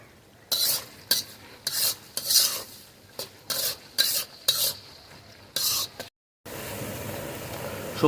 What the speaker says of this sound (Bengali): সবজিগুলো ভাজা ভাজা হয়ে গেছে।